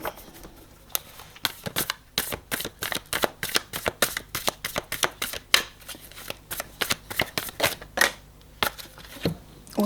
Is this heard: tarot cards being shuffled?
yes